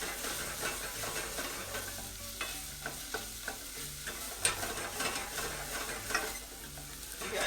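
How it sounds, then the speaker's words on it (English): Onions sauté in a pan while being cooked until translucent, giving a quiet, continuous sizzle broken by intermittent scraping and stirring clatter of a utensil against the pan. "You guys hear that sizzle? It's a sizzle of love."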